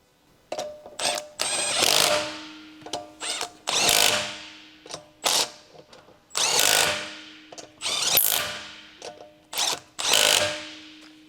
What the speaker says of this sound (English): Use 19mm long socket with electric impact wrench to tighten wheel lug nuts.